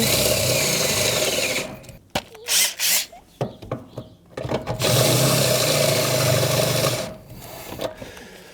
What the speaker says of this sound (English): Drilling it out, 'cause that's what we do.